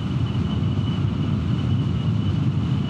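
Loud, steady wind roar buffets the microphone while a Lambretta G350 scooter cruises at highway speed, a dense broadband rush with a faint engine tone underneath and no speech.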